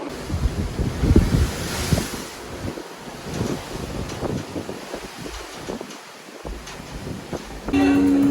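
Strong wind buffets the microphone on the open deck of the Carnival Horizon cruise ship during a sea day, a steady roaring rush with gusty swells and a hint of waves below, loud and continuous with no talking.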